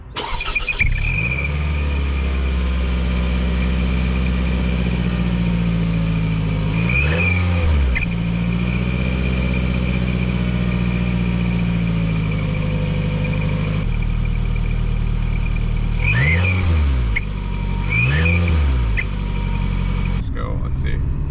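A car with a cheap eBay turbo whistle fitted into its exhaust revs repeatedly, the engine note rising and falling in several bursts over a steady loud idle, with a thin whistle riding on top.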